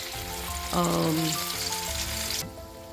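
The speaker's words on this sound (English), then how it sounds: "we are going to shallow fry it" Hara bhara kebab patties topped with cashew halves shallow-frying in oil give off a dense, close sizzle under a faint steady tonal hum, and the sizzle cuts off abruptly near the end.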